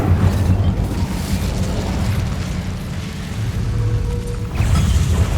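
Incendio fire spell cast in Hogwarts Legacy, a dense roaring burst of flame with rumbling low booms and crackling pops, loud and continuous throughout with game music and effects mixed in.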